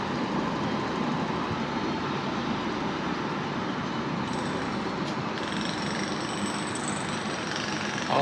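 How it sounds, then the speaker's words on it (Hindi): A WAG9 series electric locomotive rumbles close by at a station on the Lucknow–Hardoi line, a steady loud wash of engine and rail noise holding for the whole stretch without pause. "तो ये देखिए WAG9 सीरीज़ का लोकोमोटिव।"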